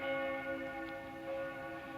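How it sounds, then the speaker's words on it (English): A cemetery church bell rings on a Sunday at Vienna Central Cemetery, heard as a steady sustained ringing tone with lingering overtones, moderately distant and alone with no talk. "Bell of the necropolis clanging away in the background"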